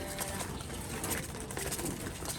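A black pigeon coos softly amid steady loft background noise, the calls faint and partly masked by a constant broadband hiss.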